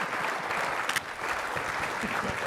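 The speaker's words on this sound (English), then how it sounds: "Well, round of applause for our round table," An audience applauds a round-table panel at a talk on the Second World War, steady dense clapping throughout with no talk over it.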